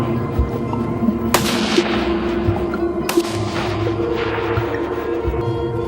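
Distant rifle shots from a kangaroo cull, fired under spotlights at 150 to 200 metres: two sharp cracks a couple of seconds apart over a steady night-time hum.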